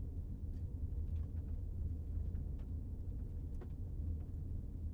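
Steady low road rumble and engine drone from inside a moving car, a continuous muffled hum with faint light ticks and rattles above it, no talking.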